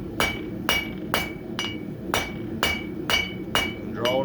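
A smith hammers a 1/4 inch round bar at the forge to taper its end, producing nine sharp, ringing metallic strikes in an even rhythm of roughly two per second, loud and close over a low forge roar.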